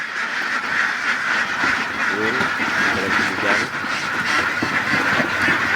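Ducks quack steadily amid a constant rushing-water hiss from water flowing continuously from a drum into their pool, with a person talking over the flock throughout.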